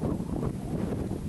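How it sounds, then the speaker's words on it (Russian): Strong wind buffets the microphone atop a ruined chapel, a steady, loud low-frequency rumble with gusty flutter throughout and no speech. "Сильный ветер, поэтому не знаю, что со звуком."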